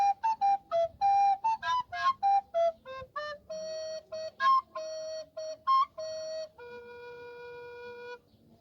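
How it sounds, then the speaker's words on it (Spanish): An alto flute plays the Pedro theme from Peter and the Wolf, a lively solo melody of short detached notes that settles into longer sustained tones at the end, clear and unaccompanied. "Es una flauta que se llama flauta contralto y suena así."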